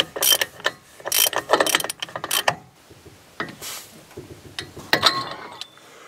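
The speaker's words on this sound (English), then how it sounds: "So I'm gonna set the torque wrench." A torque wrench ratchets in short, loud metallic bursts, then a few slower clicks, while tightening the outside axle nut on a Ford F-250 four-wheel-drive front axle.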